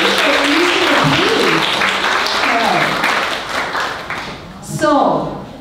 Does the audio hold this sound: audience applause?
yes